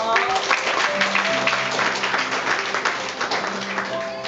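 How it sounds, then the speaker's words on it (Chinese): Wedding guests at a church ceremony clap their hands together in a lively, continuous crowd applause while music plays underneath, dense and fairly loud throughout. "荣耀归给我们上帝，拍拍手。"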